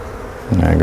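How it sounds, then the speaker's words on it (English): Wasps buzz around a beehive, a close, loud insect drone that starts abruptly midway through the short clip after a quiet lead-in. "Yeah, there are some wasps."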